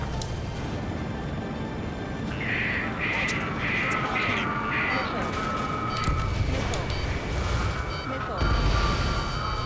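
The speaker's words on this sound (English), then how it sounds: "Strutter 1, missile launched." Missiles launching and exploding in Ace Combat 7: Skies Unknown, repeated booms and blasts under radio chatter and a talking voice, with a short run of beeping tones in the middle.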